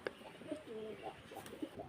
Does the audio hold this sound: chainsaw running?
no